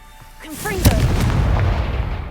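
A Confringo spell blast in the video game Hogwarts Legacy, a loud, deep booming explosion with a sharp crack that rolls into a sustained rumble, with a short vocal sound just before the blast.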